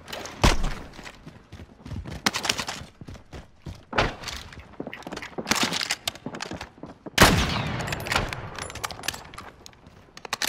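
Gunfire in a shooter video game comes in loud, close bursts and single sharp shots with thuds between, irregularly spaced, and a heavier volley around the middle of the stretch.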